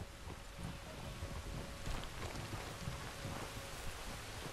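Steady rain pours with a low rumble of thunder in the Red Dead Redemption 2 game world, a continuous even hiss with no talking.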